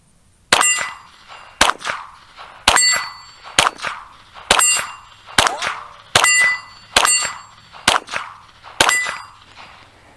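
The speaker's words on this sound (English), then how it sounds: "So that was 10 shots" Colt Pre Woodsman .22 LR pistol firing ten sharp, close shots at a steady pace about one per second, each crack ringing with a metallic clang that decays before the next, with no talking.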